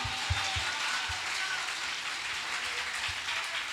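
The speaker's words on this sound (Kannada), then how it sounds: "ಒಂದು ಕ್ಷಣ ಜೋರಾಗಿ ಆತನಿಗೆ ಚಪ್ಪಾಳೆ ತಟ್ಟೋಣವಾ" A church congregation claps together during an evangelist's Kannada sermon, a steady dense wash of applause holding evenly for a few seconds, with a faint voice underneath.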